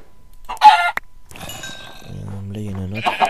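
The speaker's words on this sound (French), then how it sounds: "maintenant je vais tuer les poulets." Minecraft chickens cluck in the game, a few short clucks and sword-hit sounds near the start, then a person talks over quieter game noise.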